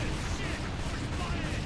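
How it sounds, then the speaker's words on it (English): Continuous rapid gunfire in the video game Earth Defense Force, a dense, loud barrage of overlapping shots and blasts filling the whole moment without pause. "we can start shooting up this one"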